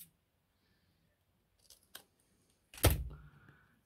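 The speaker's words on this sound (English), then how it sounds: "So I'm going to cut these square and I might round the corner." Scissors cut paper into squares for a junk journal: a few faint snips, then a louder sharp cut with a rustle of paper, mostly quiet in between.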